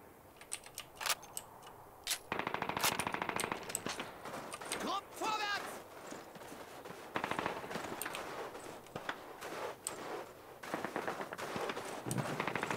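Bursts of rapid Call of Duty gunfire crackle between sharp single Kar98k rifle shots, with a voice talking over the action throughout.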